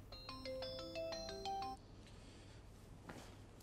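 A mobile phone plays a bright melodic ringtone, a short sequence of clear electronic notes that cuts off abruptly after under two seconds, leaving quiet room tone.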